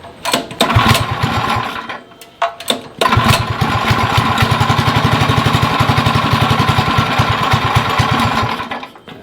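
A very smoky small engine runs steadily for several seconds, cutting out briefly after a sputtering start before catching again. It sounds close and loud, with a rapid even chugging beat and no talk over it.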